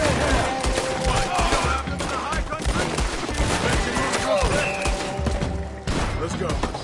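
Gunfire from Red Dead Redemption 2 crackles in bursts across several seconds, mixed with thuds and clatter under a dense game soundscape with voices.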